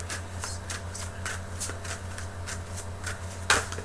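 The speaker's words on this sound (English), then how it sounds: "I keep looking at my romance angel deck, and I want to pull some cards for you" A romance angel oracle card deck is shuffled in repeated quick riffling bursts, about a dozen soft papery rasps in steady rhythm over a low hum, ending with a sharper snap as a card pops out.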